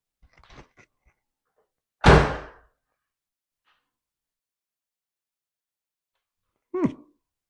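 A single solid thunk as the door of a C3 Corvette swings shut after door alignment work, loud and close, with faint handling noises before and a brief sharper sound several seconds later.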